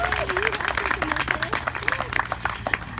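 Audience applause at an outdoor park ribbon cutting, a steady patter of clapping from a crowd with voices talking over it.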